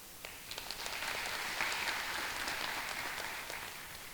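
An audience at the 2023 Mobile County Regional Spelling Bee claps for the judges, a fairly quiet, steady patter of many hands lasting several seconds.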